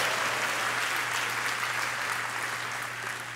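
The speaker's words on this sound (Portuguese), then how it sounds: "Pode dar uma salva de palmas ao Senhor." A congregation in church gives applause to the Lord during a Portuguese-language sermon, a steady wash of many hands clapping continuously with a low constant hum underneath.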